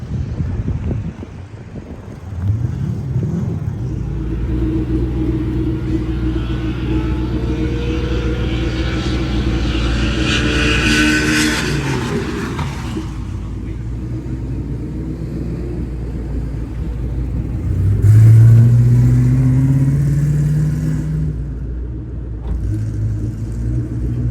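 A twin-turbo Mustang drag car's engine roars and builds in pitch toward 160 mph, mixed with heavy wind rush and rumble, loud and close throughout.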